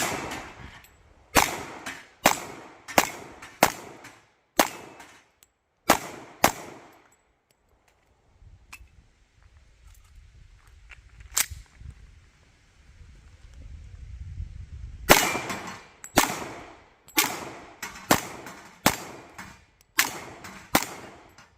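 Ruger American compact .45 ACP pistol fired in rapid strings of sharp, loud reports, about eight shots in a row, a pause with faint handling noise, then another string of eight.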